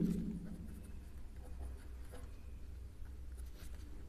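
Pen scratching on paper while working a math problem by hand, a steady, soft, close scraping texture that runs throughout, low and fairly quiet with no voice over it.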